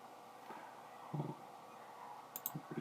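A few faint, sparse computer mouse clicks spaced out over a quiet background in an office setting during a mining software demo.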